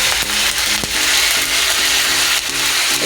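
Onion, garlic and ginger paste masala sizzles in a pan while a spatula stirs it, with repeated light scrapes and taps over the steady frying hiss, close and loud.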